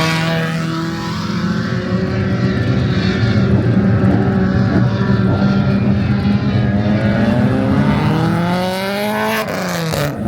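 Four-cylinder race cars roar past on a track at night, a loud continuous engine drone that swells and shifts pitch as the pack passes close by.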